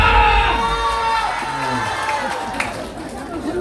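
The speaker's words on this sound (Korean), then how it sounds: "다시 한번 박수한테 함성!" A festival crowd at the Mureung Festival in Donghae cheers and shouts loudly, with whoops and raised voices of children and adults layered over a busy roar, fading slightly after the opening burst.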